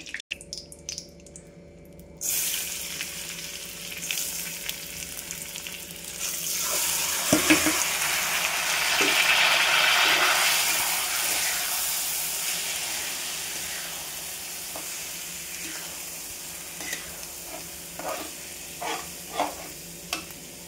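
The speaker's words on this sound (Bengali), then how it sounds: "এই তেলটাতে আমি ডালটা একটু ভেজে নেব, তাহলে খিচুড়ির স্বাদটা আর একটু বেড়ে যাবে।" Lentils fry in a little oil in a wok while being stirred, giving a broad sizzle with scraping stir strokes and occasional clinks after a quiet opening, with no voices.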